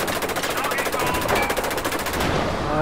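Rapid machine gun bursts rattle out in a fast, steady stream of shots in the VR combat game Bandit Six Combined Arms, loud and continuous for nearly three seconds before the gunfire briefly eases.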